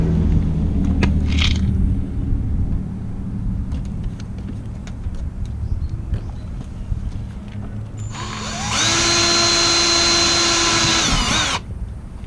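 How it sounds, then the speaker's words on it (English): A high-pitched power drill whines steadily for a few seconds near the end while drilling holes to install an RV screen door protector, preceded by a low rumbling background and faint clicks. "I'm going to drill the other 2 holes"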